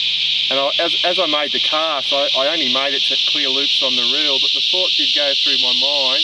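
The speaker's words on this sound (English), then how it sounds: "You can hear the cicadas in the background, and they're going ballistic." Cicadas by a river on the north coast of New South Wales drone loudly and continuously in a high, dense hiss that runs under someone talking throughout.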